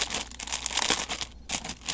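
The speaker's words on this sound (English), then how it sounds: "Sorry about all the crinkling." A plastic bag holding subscription yarn crinkles and rustles steadily up close, with a brief quieter gap near the middle and no talking.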